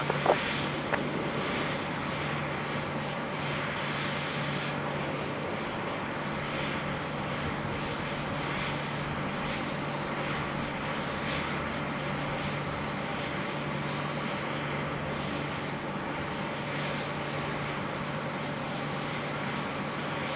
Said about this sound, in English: it's time for our A330 friends, departing now to Cairns